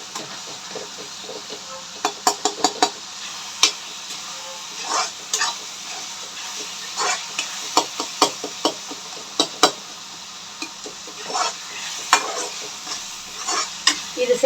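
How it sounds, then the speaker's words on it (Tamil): Onion and tomato being mashed and sautéed with a ladle for a spicy stingray fish curry, a soft sizzle punctuated by repeated sharp taps and scrapes of the ladle against the pan, close, with no talk. "இந்த வெங்காயம் தக்காளி வதங்கிறதுக்கு நல்லா மசிச்சு கொடுங்க ஃப்ரெண்ட்ஸ்"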